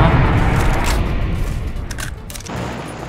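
A loud burst of gunfire crackles in PUBG, with close, rapid shots and booming reports overlapping at the start before trailing into quieter scattered cracks.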